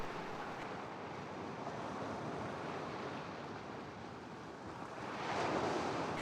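Ocean waves crashing ashore on the Galapagos coast, a continuous broad roar of surf with a swell building louder near the end, mixed with some wind.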